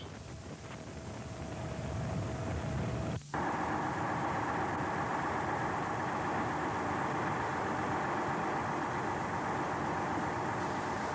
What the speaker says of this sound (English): A 450 horsepower heavy-duty tractor is coupled to the front dolly to develop the required pulling force